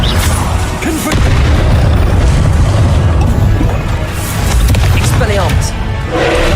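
Confringo, the blasting spell from the video game Hogwarts Legacy on PS4 Pro, goes off as loud booming explosions with crashing impacts amid dense game noise, with a brief dip near the one-second mark.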